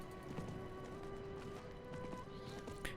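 Horse hooves clip-clopping at a steady run in the video game Diablo IV, moderately loud and continuous over game ambience with a sustained tonal hum, no talking.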